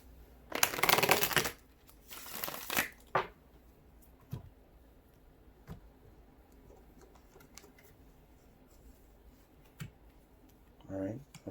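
Tarot cards riffle-shuffled in two loud, close bursts over the first few seconds, then a few soft taps and card slaps on a table, with a brief voice near the end.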